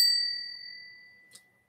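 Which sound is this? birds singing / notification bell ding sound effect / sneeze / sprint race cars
notification bell ding sound effect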